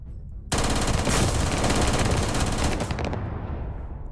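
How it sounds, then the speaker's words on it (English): Gunfire in Starfield, a sudden burst of rapid automatic shots right up close lasting a few seconds, then trailing off into quieter echoes. "Who's shooting at me?"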